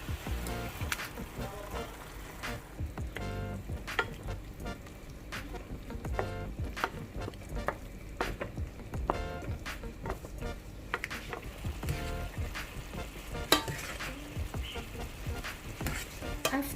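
Tuna meat frying and being stirred in simmering pesto sauce in a pan, a close crackling sizzle with frequent spoon scrapes and clicks throughout, no talk.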